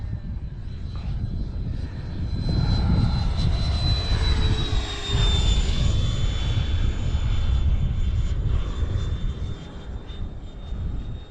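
A Sebart Fiat G-91 electric ducted-fan model jet flying overhead, its high turbine-like whine rising and falling in pitch as it passes, with steady rushing air noise and no voices.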